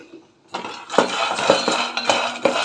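Sago khichdi being stirred and roasted in a pan, a spoon scraping and clinking against the metal in a steady rhythm of sharp knocks, close and alone.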